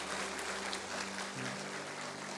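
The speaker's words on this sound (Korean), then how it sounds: "하나님께 영광의 박수를 보내주시기 바랍니다." A church congregation at a praise and testimony gathering claps together, a soft, dense patter of hands heard from some distance with low background hum.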